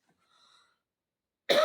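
A single sharp cough bursts out at the end, close and loud, after a near-silent stretch with faint high tones.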